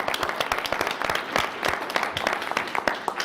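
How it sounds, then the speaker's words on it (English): Applause at a county commissioners' board meeting, a room of people clapping with distinct individual hand claps standing out over a steady, moderately loud patter throughout. "one more big round of applause for everybody in the San Jose"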